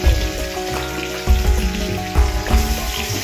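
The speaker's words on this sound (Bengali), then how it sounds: "দুটো দুটো করে ভাজি।" Mackerel pieces frying two at a time in hot oil, a loud, close, continuous sizzle with bursts of crackling and spitting and low clattering from the pan.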